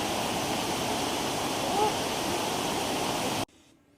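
A roaring waterfall on Vancouver Island, seen from above, fills the air with a loud, unbroken rush of white noise that cuts off abruptly near the end.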